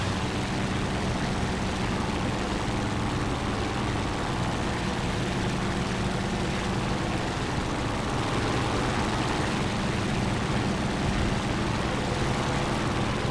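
A Zero Model 52 fighter's engine drones in flight in the War Thunder game, a loud, steady, unbroken roar with no pauses and no talk.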